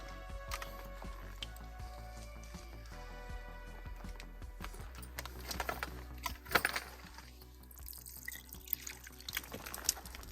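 Water drips and trickles through a LifeStraw water bottle filter as brown water comes out clear, a steady close liquid patter with small splashes and sharper drops, no voices.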